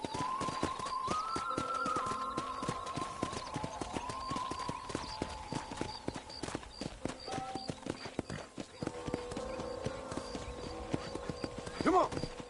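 Horse hooves clip-clop at a steady gallop in the Western video game Red Dead Redemption, a continuous rhythmic beat running under music and a voice.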